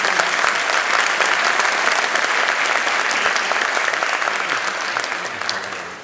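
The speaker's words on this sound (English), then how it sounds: "let's give Miss Parker a big round of applause" An audience at a Stars In The East show bursts into sustained applause for the show director, a dense, steady clapping that stays loud throughout and fades slightly toward the end.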